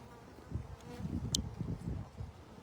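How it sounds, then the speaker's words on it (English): A big pile of honeybees in a swarm buzzes close by, a low, wavering drone that swells and fades in uneven pulses with a brief higher click partway through. "There's a big fat pile of bees."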